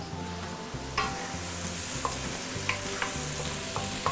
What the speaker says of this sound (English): you want to continue saute this for 1 or 2 minutes before I add in the powders